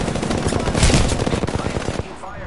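Rapid automatic gunfire from a firefight in the battle royale game Apex Legends, dense overlapping bursts at steady loudness that thin out near the end, with no talking.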